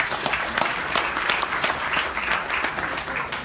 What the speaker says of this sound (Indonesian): Tepuk tangan dong buat Martunis.